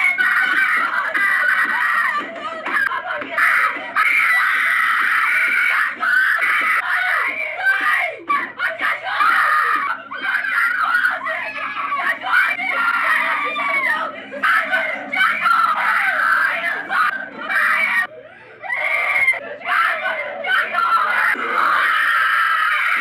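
A child screams loudly and almost without pause, shrill continuous yelling with brief dips, and other kids' voices mixed in like a noisy group of children indoors.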